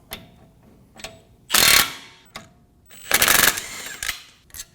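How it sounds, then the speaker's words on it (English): A 13mm socket on a ratchet loosens the front brake caliper bolts of a Volkswagen Tiguan. Two loud bursts of rapid clicking come through, with sharp single clicks and taps around them, up close. "Using a 13mm socket, remove the caliper bolts."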